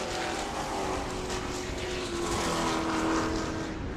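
Race cars roar around a racetrack in a continuous, steady engine drone at moderate distance, with no talking in between.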